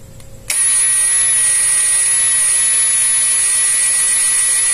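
An impact wrench with a suspected faulty module tightens at low RPM. It kicks in after half a second and then holds a loud, steady, high-pitched whirring drone with no breaks.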